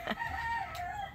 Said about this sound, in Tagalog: Maingay na yung mga manok.